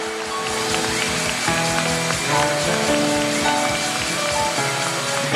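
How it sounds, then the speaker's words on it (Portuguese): Congregation applauding during a church novena homily, a continuous rapid patter of many hands clapping beneath sustained music with held chords. "Pode aplaudir para valer."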